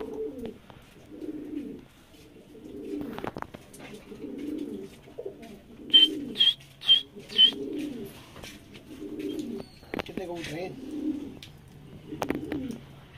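A flock of about eleven pigeons coo in a steady, repeating rhythm of soft low calls, close by, with a brief run of sharper chirps partway through.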